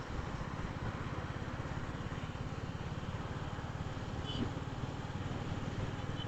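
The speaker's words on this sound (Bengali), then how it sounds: "ফুললি ফোকাস রাখতে হয় বাইকের ইঞ্জিনের সাউন্ডের উপরে" A Royal Enfield motorcycle engine thrums steadily while the bike is ridden. The low, even pulsing stays constant under a wash of wind noise and is heard faintly throughout.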